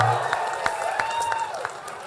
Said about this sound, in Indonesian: Tepuk tangan dulu, lihat tepuk tangan dulu.